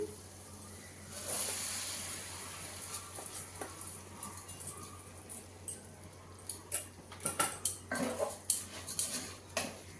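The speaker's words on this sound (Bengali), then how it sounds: "চালটা আমি একটু ভেজে নেব।" Rice is fried and stirred in a pot for egg biryani. A faint sizzle runs under a series of scraping and clinking spoon strokes, which grow more frequent and louder toward the end.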